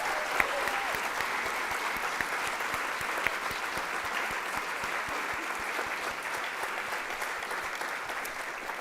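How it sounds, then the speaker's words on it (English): An evening talks audience claps for the speakers, a continuous, even wash of applause that holds steady at moderate loudness from start to finish. "A round of applause again for our talkers this evening."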